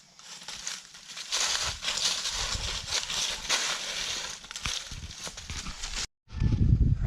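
A timid horse in a quiet remote mountain town in Santander, Colombia shuffles and clops nearby, a faint, uneven scuffing of hooves mixed with rustling, ending in a brief silence and a low thud.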